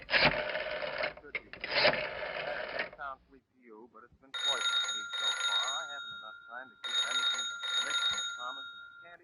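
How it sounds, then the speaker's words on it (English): A telephone rings on the line after a call to the police department, two long bright rings separated by a pause, heard after an earlier stretch of other sound and brief voices. "I picked up the phone and dialed the police department."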